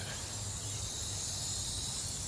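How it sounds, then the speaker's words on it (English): Steady, even hiss from an air compressor line used while bleeding the brakes on a 2002 Chevy Avalanche, continuous and fairly soft throughout with no pauses. "get your air compressor, run your line"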